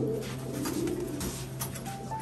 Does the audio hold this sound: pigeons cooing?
yes